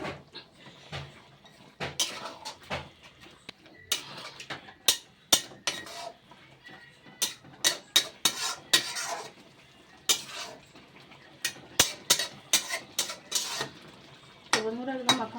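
Fish, fried beforehand, is added to a pan with coriander leaves and stirred, giving repeated close clanks and scrapes of utensil on metal in irregular bursts, with a faint sizzle underneath and no speech.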